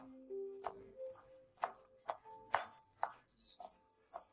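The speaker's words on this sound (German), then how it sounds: "Dann schneiden wir die Zwiebeln natürlich in Würfel." A knife dices onions on a cutting board in a home kitchen, with about eight crisp, evenly spaced chops, close and fairly quiet, with faint clinks between strokes and no talk.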